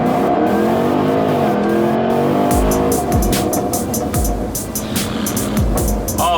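A car in ludicrous mode launches from 0 to 60 on a straight, quiet road, its loud, rising drive whine building steadily. Sharp repeated ticks and road rumble come through near the microphone as the speed climbs.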